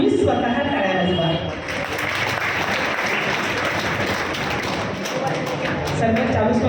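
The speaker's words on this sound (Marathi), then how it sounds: "तुमच्यासाठी तुम्ही स्वतः टाळ्या वाजवा" Audience of parents at a student motivational talk clapping for themselves, a loud, dense burst of applause after a brief spoken lead-in, swelling and continuing for several seconds before easing as talking returns.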